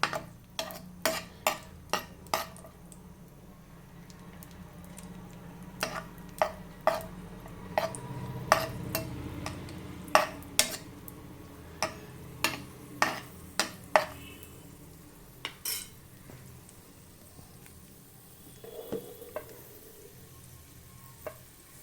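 Raisins sizzle in hot ghee in a pan, a steady frying hiss with many sharp ticks and pops from a spoon or the swelling fruit, close and clear with no talk.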